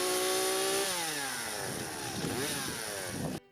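A repaired Stihl chainsaw runs loud and close, revving up and then holding a high steady whine before cutting off abruptly at the end.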